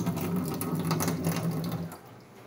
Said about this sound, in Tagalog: Lagyan natin siya ng tubig.